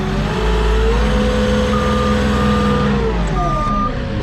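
Forklift on a lumber delivery truck backs up with its engine running steadily and loudly up close, while steady reversing beeps sound over the motor noise.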